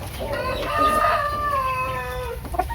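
Heritage chickens on a farm: a hen gives a drawn-out, rising-and-falling cluck close by, with fainter clucks and rustling around it.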